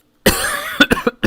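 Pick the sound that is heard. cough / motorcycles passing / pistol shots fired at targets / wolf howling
cough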